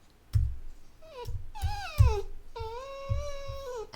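A puppy whimpers nearby in a few drawn-out, rising and falling whines, with soft thumps and shuffling between them.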